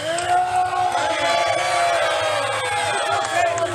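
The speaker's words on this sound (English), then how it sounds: "A lot of cheers from the crowd." A wrestling crowd at a title match cheers and whoops loudly throughout, many voices shouting together in a dense, continuous roar.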